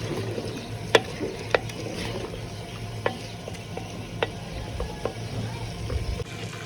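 Chicken fries and is stirred in masala in a pan, with a soft continuous sizzle broken by a string of sharp spoon clinks and scrapes at irregular intervals.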